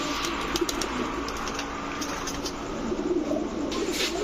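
Pigeons in a loft of high-flyer, racer and other breeds coo steadily in a low, murmuring background, a soft continuous chorus with no voices over it.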